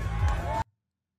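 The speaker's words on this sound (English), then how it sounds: "Crowd went wild." A festival crowd at Coachella roaring and cheering, a dense wash of voices that stops abruptly after well under a second.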